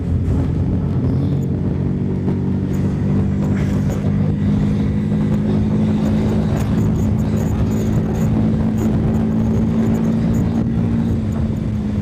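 A 150 cc Bajaj Pulsar motorcycle rides steadily, its engine a continuous loud droning hum with a constant throb and no pauses.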